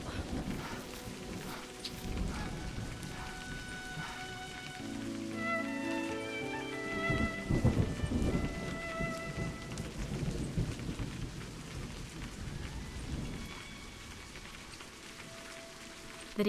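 Steady rain patters throughout while low thunder rolls and rumbles in the middle, swelling briefly before fading back under the rainfall, in the video game A Highland Song.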